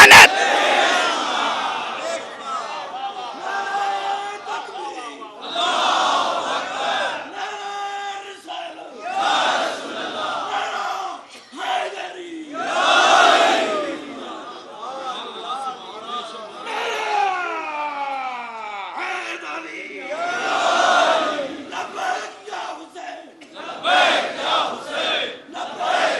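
A large crowd at a Muharram majlis for Imam Hussain shouts religious slogans such as Ya Ali in repeated loud bursts, with a voice leading between the chants.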